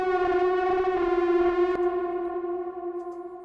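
A sustained, wailing guitar tone played through a delay, fuzz and reverb chain, thick with harmonics and a rich, steady buzz that slowly fades over a few seconds, heard alone without talking.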